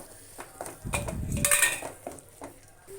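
Ginger paste with turmeric, salt and chili powder being fried and stirred in a pan, mostly heard as a spoon scraping and clinking against metal in several short strokes, with a brief louder burst of frying in the middle.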